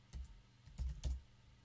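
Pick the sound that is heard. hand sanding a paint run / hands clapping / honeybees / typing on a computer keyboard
typing on a computer keyboard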